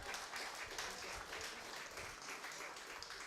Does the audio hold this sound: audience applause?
yes